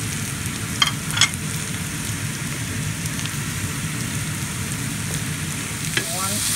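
Onions and mushrooms sauté in a pan with a dense, even crackling sizzle that sounds a little like rain. A few faint clinks of a utensil break in now and then. Steady and moderate, with no voices.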